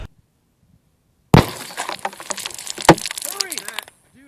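A bottle of syrup shatters under a .22 rifle shot after a moment of silence: one sharp crack and burst of breaking glass, a second sharp impact, then tinkling fragments and splashing that fade out.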